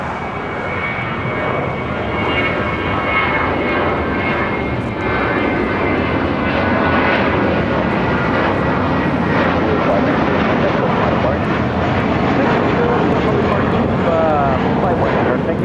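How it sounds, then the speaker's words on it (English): A Viva Aerobus Airbus A321 jet roars through its takeoff at LAX, bound for Guadalajara, a loud, dense, continuous engine rumble that builds slightly over the span. "Flight 519, taking off to Guadalajara on an A321"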